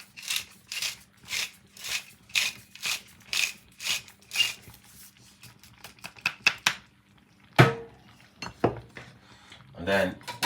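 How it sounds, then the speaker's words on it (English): A whisk beats through porridge with vanilla and spices in a steady run of rhythmic, scraping strokes, about two per second, close and clear, pausing briefly before a few final clinks and strokes. "we're just gonna whisk it a little bit, get that flavor and everything inside of it with the spices and everything"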